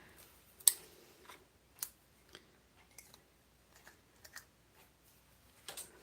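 Stampin' Up! Snips scissors cutting a length of paper, a sparse series of quiet, sharp snips and clicks spaced irregularly, close and with no talk.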